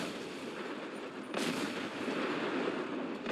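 Car explosions in Fallout 4 set off across a sea of parked cars, a dense continuous crackling roar with a sharp burst midway, sustained and fairly loud with no talking.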